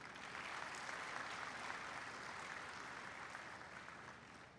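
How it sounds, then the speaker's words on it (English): Audience clapping fills a large hall on a Sunday evening, a steady, dense wash of applause from a big crowd that holds evenly throughout and eases slightly at the end. "You can give a clap for yourself"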